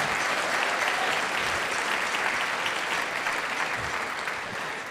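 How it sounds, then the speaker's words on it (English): A music-gathering audience claps in a sustained, fairly faint but dense round of applause, steady throughout and easing slightly at the end, with no talking over it. "One round of applause for them."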